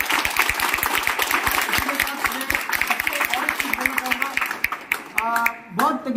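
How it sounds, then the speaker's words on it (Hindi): A crowd at a sales-team car-achievement celebration claps in a brisk, steady rhythm of sharp, close claps for several seconds, and voices rise over the clapping as it fades. "उन लोगों के लिए एक जोरदार ताली बन"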